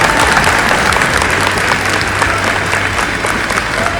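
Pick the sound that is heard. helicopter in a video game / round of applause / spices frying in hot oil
round of applause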